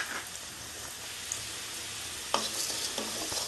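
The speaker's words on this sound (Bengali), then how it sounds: "এটা আমি শুকনো খোলায় ভেজে নেব" Cumin seeds dry-roasting in a dry wok while being stirred, a steady soft sizzle and scraping with louder stirring bursts near the end, close and alone.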